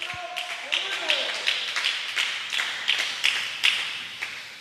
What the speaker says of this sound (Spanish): Fuerte ese aplauso para el Señor Jesucristo.